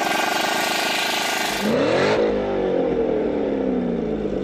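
Chevrolet Corvette with a bolt-on sports exhaust revving hard nearby, a rising engine note climbing sharply and then holding a steady, loud roar at a car show.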